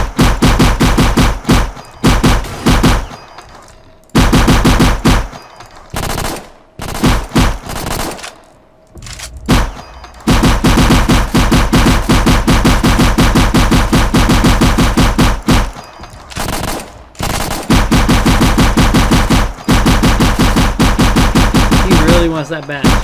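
Loud, near-continuous automatic gunfire from the Roblox game Cosmic War Tycoon, rattling in long bursts with brief gaps and a few pauses between volleys.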